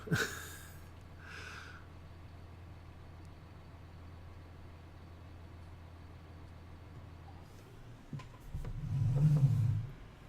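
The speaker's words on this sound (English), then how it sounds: "Tractor on." Tractor engine in the Farming Simulator 19 game idling with a steady low rumble, followed by a louder surge near the end as it revs up; no voices.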